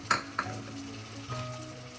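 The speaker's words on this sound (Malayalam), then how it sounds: "ഈ സമയം നമുക്ക് തക്കാളി കൂടെ ചേർക്കാം." Tomatoes go into a pan of lightly softened garlic, sautéing for a coconut-based para fish head curry. A close, steady sizzle carries throughout, with two quick stirring clatters near the start.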